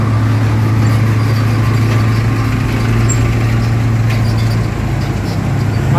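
A Mitsubishi 6x2 truck engine drones steadily and loudly throughout, a low continuous rumble with faint background noise and no talking.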